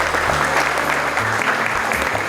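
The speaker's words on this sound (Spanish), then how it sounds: "queremos darle un fuerte aplauso" Loud, dense applause from a conference audience honoring a visiting lecturer, continuous clapping throughout with a low hum underneath and no voices on top.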